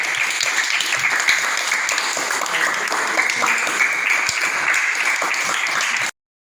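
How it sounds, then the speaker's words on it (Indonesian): Audience applause at a teachers' gathering in Majene, Indonesia, steady close clapping from a group sustained for several seconds before cutting off abruptly. "oke kita akan tepuk tangan"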